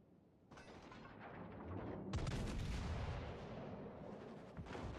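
Naval guns fire in a ship battle video game, with a faint distant boom followed by a heavier rumbling salvo that swells and slowly fades, with no voices.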